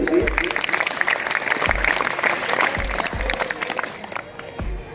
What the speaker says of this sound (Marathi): तीन टाळ्या वाजवायच्या जोरदार